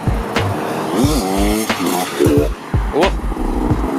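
A motorcycle rides past on a rough riding spot, its engine whining and rising in pitch as it revs up close, with several sharp bursts and rattles mixed in.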